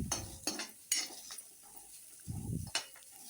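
A spoon scrapes and clinks against a pan while onions are sautéed, giving several sharp stirring knocks with a brief soft sizzle between them, close and fairly quiet.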